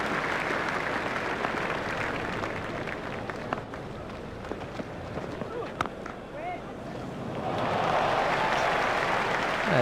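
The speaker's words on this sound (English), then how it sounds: "The crowd enjoyed that one." A cricket crowd applauds a boundary four in EA Sports Cricket 2002 during a World Cup match between India and Kenya. The applause is steady, fades slightly through the middle with scattered sharp clicks, then swells again near the end.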